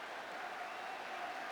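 Home crowd at a QPR football match applauding their team after a 7-0 scoreline, a steady, even wash of clapping from a large stadium crowd with no voices over it.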